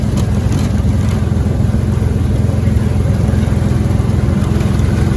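A VW rail buggy engine drones loud and steady up close, a continuous low rumble with a rapid pulsing beat as the wheels spin, no talk over it.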